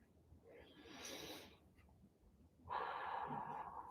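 One person, close and quiet, takes a slow deep breath in through the nose and then lets out a long, breathy exhale, with no speech.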